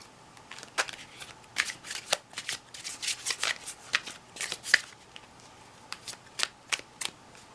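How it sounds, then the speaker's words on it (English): A tarot deck of Blythe Doll cards is shuffled by hand, giving a rapid run of crisp, close riffling bursts in an otherwise quiet room. "So let's see how these cards shuffle"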